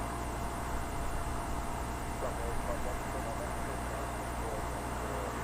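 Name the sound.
Bulgaria Air Airbus A220-100 aircraft arriving from Sofia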